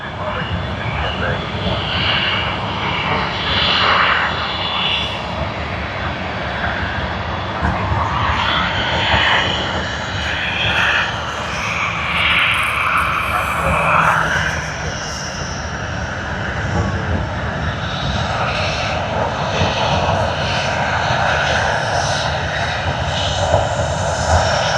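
Airliner engines roar steadily at Sydney Airport, a loud sustained broadband rumble with some rise and fall as the aircraft passes, with voices talking throughout.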